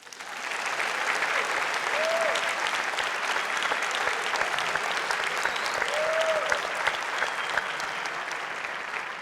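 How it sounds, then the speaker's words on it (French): A studio audience applauds after a business pitch in the grand final of a startup competition, dense sustained clapping running for about nine seconds at an even level, with a couple of faint tonal blips underneath. "on voit les applaudissements, apparemment, vous avez convaincu"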